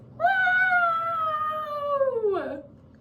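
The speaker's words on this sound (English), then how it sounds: "I've got a kitty here, hold on." A large 20-pound male cat gives one long, loud, close meow that slowly falls in pitch and ends in a short throaty dip, with no talking over it.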